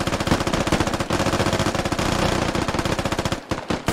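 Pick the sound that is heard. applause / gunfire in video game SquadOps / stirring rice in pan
gunfire in video game SquadOps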